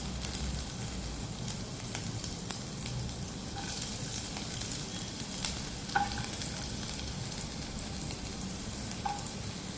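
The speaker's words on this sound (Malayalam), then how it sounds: "നെയ്യ് ഒന്ന് ചൂടാകുമ്പോഴേക്കും അതിനകത്തേക്ക് അരിഞ്ഞു വെച്ചിട്ടുള്ള കുറച്ച് ഉള്ളി ഇടുക." Chopped onion frying in hot ghee for paneer fried rice, a steady dense sizzle and crackle running throughout, with a few brief clinks of a utensil stirring in the pan.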